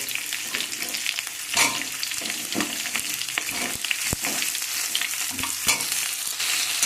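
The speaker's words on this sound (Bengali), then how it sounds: "টমেটো আর আলুকে আমি ভালো করে ভেজে নেব" Potatoes and tomatoes fry in a pan with spices for a fish curry, a steady close sizzle broken by occasional louder crackles and stirring scrapes, with no talk.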